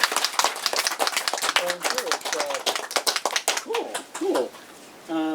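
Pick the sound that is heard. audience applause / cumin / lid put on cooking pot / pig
audience applause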